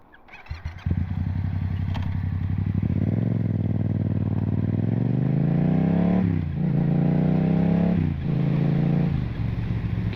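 A motorcycle is ridden through a series of downshifts with throttle blips, starting with a clatter and then a loud close engine note that rises, drops and surges again with each blip, with no talking.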